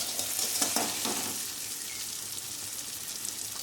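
Paneer pieces fry lightly in hot oil in a pan, a soft, continuous sizzle with occasional stirring scrapes, close but fairly quiet and without any voices.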